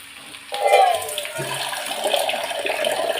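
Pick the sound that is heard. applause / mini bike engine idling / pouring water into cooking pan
pouring water into cooking pan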